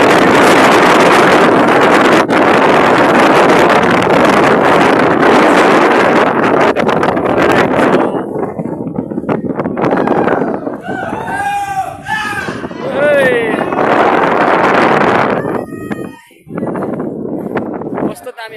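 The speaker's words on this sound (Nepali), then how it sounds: "कस्तो दामी हावा" Strong wind roars continuously at a Himalayan viewpoint on Temke Dada, about 3,100 metres up in Nepal, buffeting the microphone with a loud rumble that dips briefly while a person speaks.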